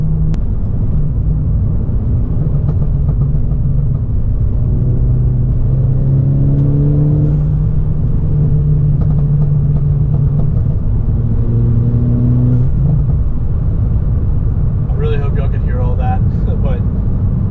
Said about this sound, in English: So I'm going to do a pull, windows up, let you guys hear the burble.